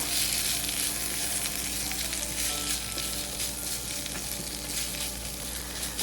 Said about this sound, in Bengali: দিয়ে আমি এটাকে কিছুক্ষণ নেড়ে চেড়ে একেবারে পাঁচ থেকে সাত মিনিটের মতো আমি ভেজে নেব